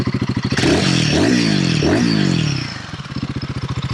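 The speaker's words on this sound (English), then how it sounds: "It's a pretty good sounding motorcycle." Royal Enfield Guerrilla 450 motorcycle with a bone-stock exhaust, its single-cylinder engine thumping at a steady idle, then revving hard through a few loud, rising bursts before settling back to a close, pulsing idle.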